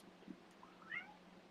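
A pet cat gives a faint, short meow from a little distance in a quiet room.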